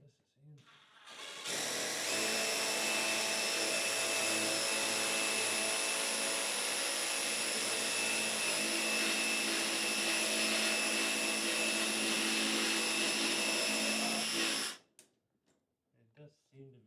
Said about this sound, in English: It does seem to be drilling, it's just very slow.